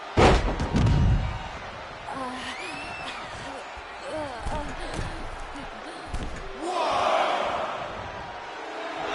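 Wrestling match in the video game WWE 2K26: a roaring arena crowd under ring commentary, punctuated by heavy thuds and slams of match impacts, with the crowd noise swelling near the end.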